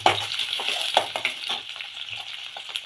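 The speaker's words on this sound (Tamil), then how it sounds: "இது தாளிக்கிறோம்" Tempering spices and curry leaves crackle and sizzle in hot oil for tamarind fish kulambu, a close, busy popping with scattered sharp spits.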